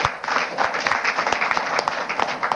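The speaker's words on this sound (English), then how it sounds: "Another round of applause for him." Crowd at a political press event applauding, a sustained wash of many hands clapping with some sharper individual claps, moderately loud and uninterrupted, no speech over it.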